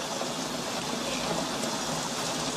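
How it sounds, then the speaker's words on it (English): Pouring rain hisses as a steady, dense wash of noise with no breaks, close and fairly loud, with no voices over it. "Right now, it's pouring rain."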